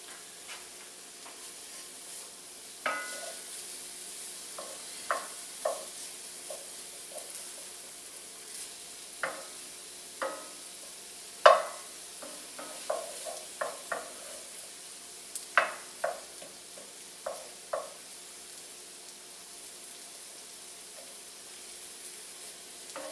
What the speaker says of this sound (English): It is sizzling in there, so I know we're on the right path.